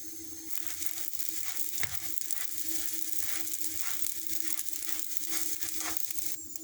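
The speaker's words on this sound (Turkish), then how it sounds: "Kadayıfın rengi koyulaşana kadar hızlı bir şekilde karıştırıyoruz" Shredded kadayif with sugar is stirred quickly in a hot pan, producing a continuous soft sizzle with rhythmic rustling and scraping strokes, close up and with no one talking.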